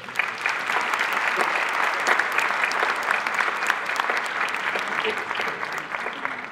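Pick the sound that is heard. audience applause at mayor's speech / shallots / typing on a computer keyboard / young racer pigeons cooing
audience applause at mayor's speech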